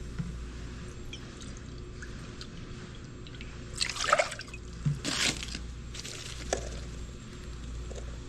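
Water, vinegar and other brine liquids poured for pickling smoked spicy eggs: a faint background, then two short bursts of splashing pour a second apart, followed by quieter trickles.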